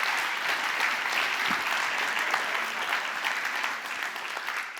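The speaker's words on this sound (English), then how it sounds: "could you all stand up and let's give them a round of applause?" Steady, dense applause from a debate audience fills the room, a continuous wash of clapping hands at moderate distance with no talk over it.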